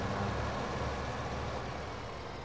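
Steady low rumble of a tractor engine in Farming Simulator 15, continuous and fairly loud, fading slightly toward the end.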